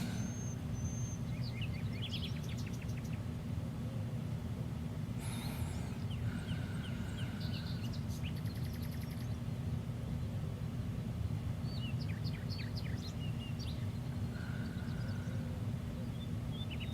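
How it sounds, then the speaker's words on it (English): Birds calling outdoors, scattered faint chirps and short trills coming and going at a distance over a constant low rumble of background noise, with no talk. "Just see the birds and hear the birds."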